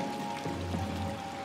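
Steady, soft rain hiss from the video game Little Nightmares 2, a continuous wash of falling water with a low hum beneath it, heard alone without talk.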